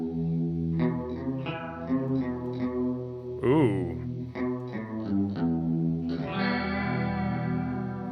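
Electric guitar through a Walrus Audio Fundamental Chorus pedal on its heavy setting: wavering, shimmering notes and chords ring out with reverb and echo for several seconds, with a short exclaimed voice near the middle.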